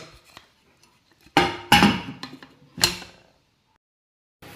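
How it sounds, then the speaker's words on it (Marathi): A pressure cooker lid being closed gives a few sharp metallic clanks and clicks in a kitchen, clustered together and followed by quiet. "आता कुकरचं झाकण करून घेते मी बंद."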